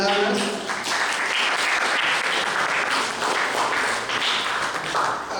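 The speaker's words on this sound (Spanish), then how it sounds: "damos un fuerte aplauso" An audience at a political science lecture workshop claps loudly in a thick, continuous wave of applause that holds steady for several seconds.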